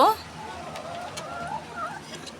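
Laying hens in a small flock give scattered soft clucks and short calls, close but fairly quiet, with a person talking over them.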